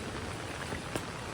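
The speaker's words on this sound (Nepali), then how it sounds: "तर नि सिमसिम त परिरहेछ नि" Light drizzle falling outdoors, a soft even patter of fine raindrops on surfaces for the whole moment, with no voices.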